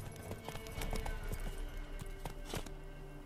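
Galloping hooves of the horse Roach in The Witcher 3 drum in a quick, rhythmic clip-clop close by, a brief burst of steady pounding strides.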